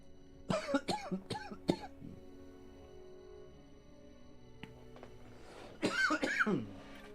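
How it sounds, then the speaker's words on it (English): A man with a cold coughs and clears his throat during a live video game stream: a quick cluster of four sharp coughs early on, then quiet, then one longer, rasping throat clear near the end. "apologies if I am coughing or clearing my throat."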